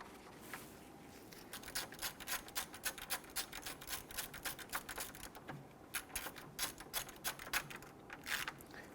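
A hand ratchet tightens bolts on the upper molding of a 2006-2012 Toyota RAV4 3.5L V6 engine, with rapid bursts of close, crisp metallic clicks repeating throughout and no talk.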